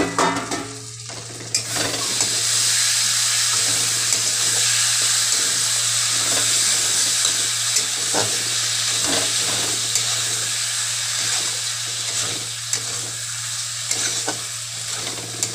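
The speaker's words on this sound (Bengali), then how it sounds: "গ্যাসটা সিমে রেখে ঢাকা দিয়ে কষিয়ে নেবো।" Potatoes with cumin powder fry on a low flame in a covered pan for a snakehead fish curry, giving a steady, loud sizzle and hiss broken by repeated scraping stirs, with no talking.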